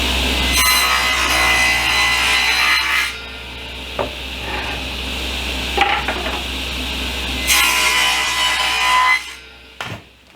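Table saw with a 1/8-inch blade cutting a dado in plywood, two loud sustained cutting passes with the motor humming between them and a few clunks as the board is handled.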